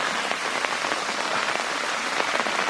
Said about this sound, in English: It's raining pretty viciously right now.